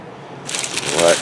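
Wax paper peeled off an epoxied panel on a boat hull in a home garage, a brief close crackling, rustling peel that starts abruptly and builds over about a second.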